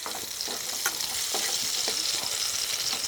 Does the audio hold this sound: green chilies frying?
yes